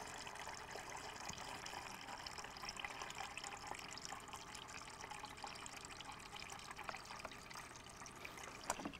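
Water runs steadily from a refrigerator dispenser into a large plastic stadium cup, a continuous trickling fill heard close and alone for several seconds.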